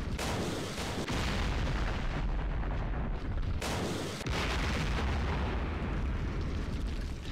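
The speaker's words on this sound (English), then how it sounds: "Here comes the artillery strikes" Artillery strikes in the war game John Tiller Campaign Series, East Front Operation Typhoon, form a dense, continuous roar of booming blasts that overlap with brief dips between volleys, loud and without talk.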